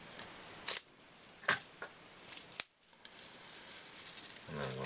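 Scissors snip through a bunch of fly-tying hair for a pike tube fly in a few crisp, close cuts, separated by short quiet gaps, with no speech.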